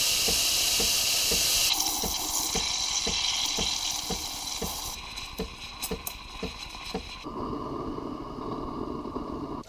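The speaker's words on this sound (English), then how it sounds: "All right, so we're gonna steam some milk now." A Breville Barista Express steam wand steams milk, a loud hiss giving way to rhythmic gurgling and spurting pulses, then settling into a lower, quieter whoosh near the end.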